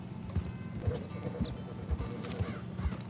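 A horse in the video game Red Dead Redemption 2 clops its hooves in a steady rhythmic series of soft thuds over a busy game soundscape, with a brief whinny mixed in.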